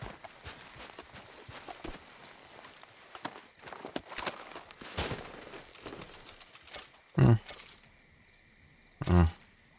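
Horse hooves clip-clopping in the Red Dead Redemption 2 video game, a faint scattered series of soft hoof taps and clatter, followed by two louder sharp thumps near the end.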